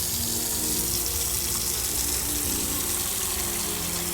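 Steady gushing water fills a container in the Autopsy Simulator video game, a continuous broadband pour like a running tap, close and even in level throughout, with no voices.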